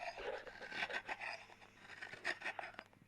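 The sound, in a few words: crumbling patali palm jaggery by hand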